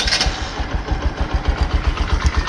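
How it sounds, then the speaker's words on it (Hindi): A 2021 Bajaj CT110X motorcycle engine idles nearby with a steady, quiet low putter of regular pulses running throughout, heard alone. "मैंने बाइक को ऑन कर दिया है।"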